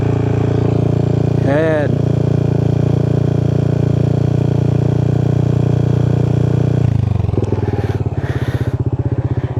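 Yamaha Nmax Techmax scooter fitted with a 4S1M Street Core V3 exhaust, idling and held steady near 3,000 RPM with a loud, constant drone, briefly rising then dropping back to a lumpy idle; someone speaks briefly.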